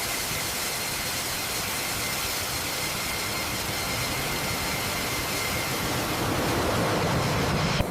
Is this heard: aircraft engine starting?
yes